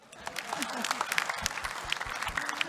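An evening awards-ceremony audience applauds, a dense run of clapping from a crowd that keeps going throughout with a voice over it.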